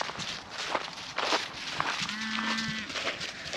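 Cattle bawl with a long, low moo over shuffling hooves and rustling, several animals close by moving along outdoors.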